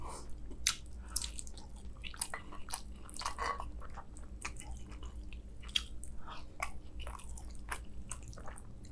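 Close, wet chewing of spicy curry, with moist smacking and squishy bites repeating steadily and continuing alone.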